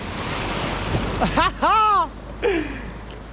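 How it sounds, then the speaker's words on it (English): Surf on the Caribbean coast washes steadily in the background as a broad, even roar, while a voice gives a few short excited shouts over it. "Okay, waves are coming."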